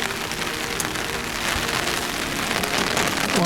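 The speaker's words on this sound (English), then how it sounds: "It's absolutely pouring with rain and really windy." Pouring rain beats steadily on surfaces amid strong wind, a dense, continuous hiss without voices.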